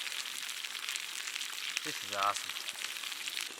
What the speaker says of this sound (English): Nice sizzling pan of trout, fire going